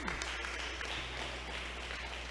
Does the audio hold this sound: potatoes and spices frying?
no